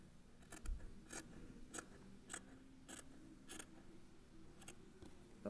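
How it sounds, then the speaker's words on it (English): Scissors trim excess fabric off a sewn mask cover, with about eight crisp, evenly spaced snips close by and quiet, with no talking. "we're going to trim all that excess fabric off. Grab scissors"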